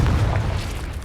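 Confringo spell blast in Hogwarts Legacy, a single short, loud low boom with a muffled burst quality, brief and close.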